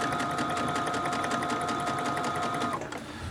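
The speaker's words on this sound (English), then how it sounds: "Let me position myself in the center of the sewing machine so I can sew even." A sewing machine runs steadily, stitching fabric for a hair salon apron, with a continuous close whirring and rapid needle rhythm that eases slightly at the end.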